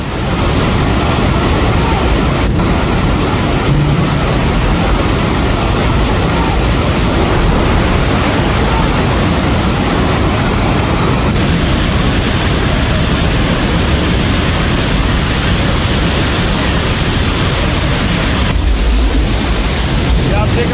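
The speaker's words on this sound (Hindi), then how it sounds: "पानी का बहाव देखिए जरा, इतनी तेज पानी आया है कि खिलौनों की तरह बस पानी में बहती हुई चली गई" Flash-flood water surges through a bus depot on the China–Nepal border, a loud continuous roaring rush with a heavy wind-like hiss that never lets up.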